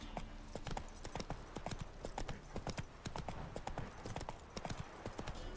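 Roach, Geralt's horse in The Witcher 3, gallops with a quick, even clip-clop of hooves that runs the whole time at moderate loudness. There is no talk.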